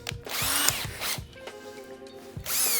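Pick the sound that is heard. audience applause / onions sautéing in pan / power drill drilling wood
power drill drilling wood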